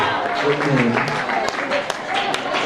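Congregation at a church service applauding, a dense patter of clapping mixed with crowd voices and talk throughout.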